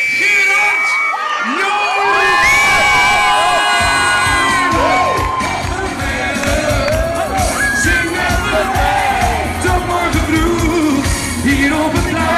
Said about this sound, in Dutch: Geef een duidelijk applaus, want hier is Gerard